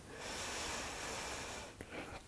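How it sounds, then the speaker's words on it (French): Close, faint breathing during a yoga flow: one long, steady airy exhale with a hiss and a short, sharper breath near the end. "encore 2 respirations."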